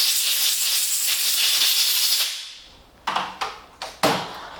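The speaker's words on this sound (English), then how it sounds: "give the carburettor a general blow with compressed air to remove any debris or dust" Compressed air blasts through the carburettor of a two-stroke outboard engine during servicing, one long loud hiss that tapers off, then four short sharp puffs in quick succession.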